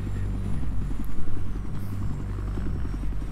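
A helicopter in the video game Battlefield 3 gives a steady, loud rotor and engine drone that throbs with a fast beat, with a heavy low rumble and no talk.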